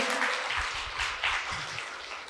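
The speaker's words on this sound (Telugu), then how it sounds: "ఒకసారి గట్టిగా క్లాప్ చేద్దాం" A short burst of clapping from a crowd at a music and meditation event, steady and fairly loud throughout.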